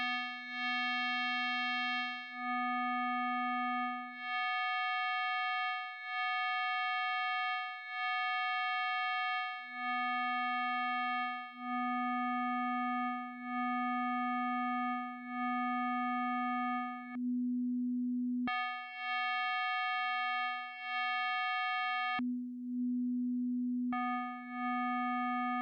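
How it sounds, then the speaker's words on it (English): A steady FM synthesizer tone with a bright, buzzy harmonic timbre, operator 3 modulating the carrier, held as a series of repeated sustained notes with two brief silent gaps and no voices. "the sound changes and gets that of operator 3 modulating the carrier"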